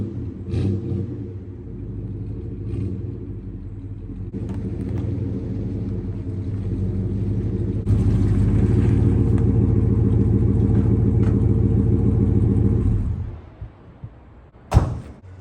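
A Husqvarna 372 chainsaw fitted with a UFO muffler runs at a steady, throaty drone that grows louder partway through, then cuts off, followed by a sharp knock.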